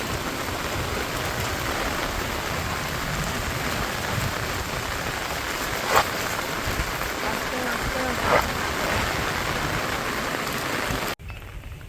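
Steady heavy rain pours down in the Sundarbans, a dense even hiss with a couple of brief louder splashes, cutting off abruptly near the end.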